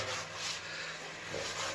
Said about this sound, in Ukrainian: Після щітки беру ще й вологу серветку і добряче протираю